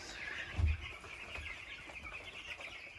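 Chicks clucking and cheeping in a full brooder, a busy close chorus of overlapping calls with one louder cluck near the start.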